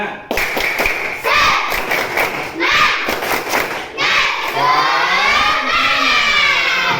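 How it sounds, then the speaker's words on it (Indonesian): A classroom of children performs a rhythmic spirit clap in a morning lesson, with bursts of patterned clapping and thumps, then shouting and chanting voices rising over the claps near the end. "tepuk semangat dulu, tepuk semangat"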